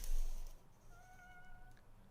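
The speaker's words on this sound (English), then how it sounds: "the family wakes up after hearing what sounds like a cat meowing at their front door" A faint, thin, cat-like meow comes from outside a front door. It is one short drawn-out call over a low background hum, captured on a home camera.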